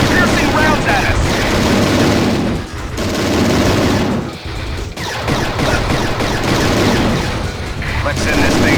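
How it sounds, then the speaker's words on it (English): Armor-piercing rounds pound away in a Transformers: Decepticons battle on the DS: loud, dense, nonstop gunfire and booming blasts with only brief dips. Voices are faintly mixed into the din. "They're shooting armor-piercing rounds at us!"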